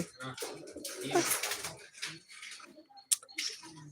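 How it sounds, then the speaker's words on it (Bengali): Pigeon chicks coo softly and repeatedly at close range in a loft, with irregular bursts, scuffling and clicks, and faint speech mixed in. "কবুতর বাচ্চা আছে"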